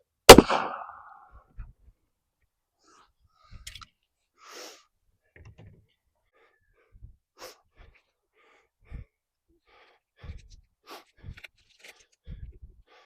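One sharp, loud 9mm gunshot firing a Winchester Ranger round, a single crack with a brief decaying tail, followed by quiet with scattered faint breaths and small movement sounds.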